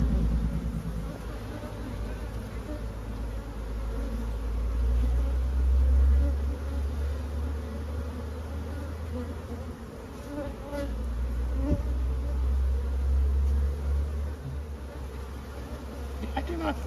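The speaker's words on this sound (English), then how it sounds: "The bees next door, the hive that's initiating the swarm, are not too happy right now." Agitated honey bees swarm around a hive beside one that is starting to swarm, a dense, steady buzzing drone that swells and fades, close and loud, with faint background rumble.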